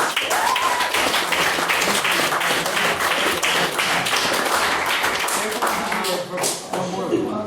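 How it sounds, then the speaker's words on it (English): A debating society audience applauses after a motion is carried: dense, steady clapping from many hands fills the room for the whole stretch, with voices and cheering mixed in. "The motion is carried. Round of applause."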